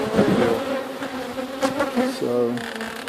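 Honey bees hum loudly and continuously around an opened backyard hive during an inspection, a dense close buzzing with shifting wingbeat pitches as individual bees fly past near the listener.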